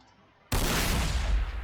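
A tank cannon fires at front armor in the Warhammer 40,000: Sanctus Reach video game, one abrupt loud blast after a brief quiet lead-in, followed by sustained roaring noise with no talk.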